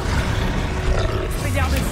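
The Incendio fire spell is cast in a Harry Potter video game, giving a loud, dense roaring whoosh of flame that fills the whole short moment.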